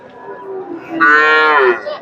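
A Friesian dairy cow at a cattle market gives one loud, drawn-out moo close by, rising after a low lead-in, with no voices.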